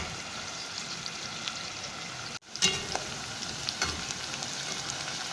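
Onions frying and starting to brown in a pan, a quiet, steady sizzle with a brief break and a few soft clinks or stirs, with no talking.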